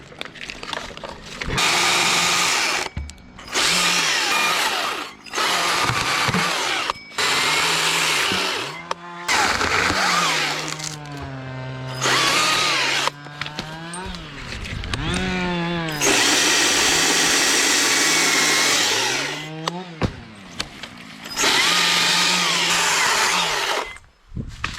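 Husqvarna T542i battery chainsaw cutting into a tree during climbing arborist work, with repeated loud bursts of motor whine that rise and fall in pitch as the saw bites, separated by short pauses.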